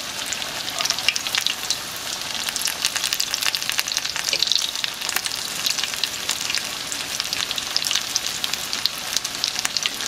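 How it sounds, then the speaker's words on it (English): Potato and cheese cakes frying in hot oil in a pan, a dense, loud, continuous sizzle with crackling pops throughout, close up with no talking. "I'm just going to make sure that I get that side fried"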